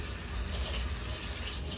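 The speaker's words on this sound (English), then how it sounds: "I kept running hot water on it" Hot water runs steadily from a kitchen sink tap while eggs are rinsed, a constant close hiss and splash at a fairly low level with no talking.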